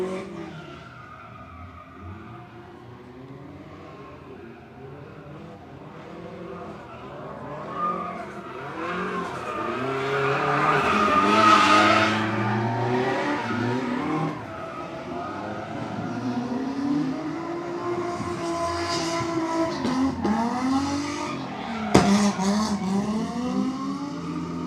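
Mazda Miata drift car at a live drifting event in Mexico sweeps past with a rising engine roar and long, wavering tire squeal, heard from trackside and growing louder midway, with a sharp crack near the end.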